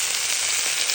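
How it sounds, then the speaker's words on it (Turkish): Meat sizzling on a stone grill set over an open fire, a steady, dense crackling hiss throughout a short moment, with no talk. "Etler nar gibi kızarıyor."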